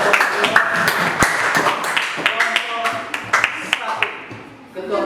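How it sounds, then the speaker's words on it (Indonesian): A classroom group applauds group 2 with a burst of scattered hand claps, close and lively, thinning out toward the end. "Tepuk tangan untuk kelompok 2."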